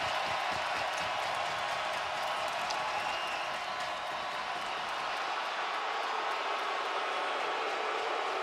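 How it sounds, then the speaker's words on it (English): A playoff hockey arena crowd roars for the home team during game 7 of the Canadiens versus the Sabres. The cheering and applause form a steady, loud wash of noise for the whole stretch. "the crowd paying homage to the effort of the home team"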